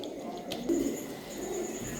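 Several pairs of fancy pigeons, including red-tailed and black-tailed breeds, coo at a market, a low soft cooing close by over faint background bustle.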